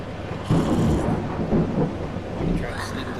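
A thunderstorm rolls with deep, rumbling thunder over steady rain, loud and continuous with swelling peaks across a few seconds.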